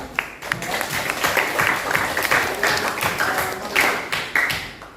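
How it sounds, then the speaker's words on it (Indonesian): A classroom of students claps for the groups that presented, a steady patter of applause filling the room, with a few voices mixed in. "Saya beri aplaus dulu terhadap pemecahan masalah yang telah kalian lakukan."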